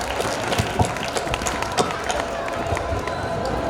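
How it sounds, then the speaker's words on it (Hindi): Audience at a cultural stage performance claps loudly together, a dense, steady patter of many hands with scattered crowd murmur and voices mixed in throughout. "एक बार जोरदार ताली बजाएंगे सब जने"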